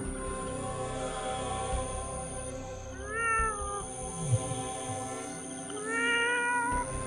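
A cat gives a few drawn-out, wavering meows, two clear calls spaced apart over a low steady background hum.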